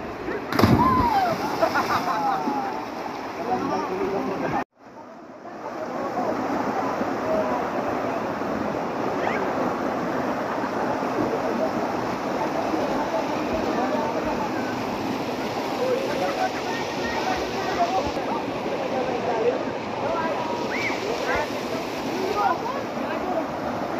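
Bunsuran Falls in Tanay, a steady roaring rush of falling water, loud and close, with wind buffeting the microphone and a brief dropout near the start.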